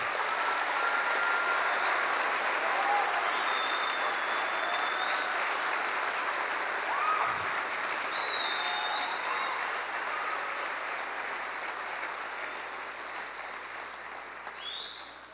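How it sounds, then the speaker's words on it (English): A large audience applauds graduates at a university graduation ceremony, with dense, sustained clapping that holds steady before slowly fading toward the end. "Please let's have a hearty round of applause for all graduates."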